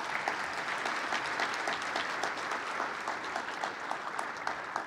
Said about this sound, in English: A round of applause for the Sierra Middle School athletes,